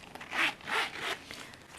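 A zipper is pulled around a snug Hobonichi planner cover in three quick, close rasping strokes, each a bright scratchy burst, with no talking.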